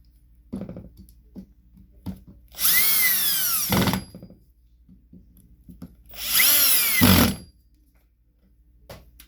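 A handheld power drill drives screws back into a fan's capacitor mount in two loud, whining bursts of about a second each, separated by quiet handling clicks and taps.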